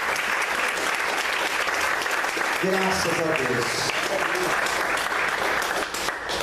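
Church congregation applauding steadily in a dense, continuous wash of clapping, with voices calling out over it and a brief sung or spoken phrase rising midway.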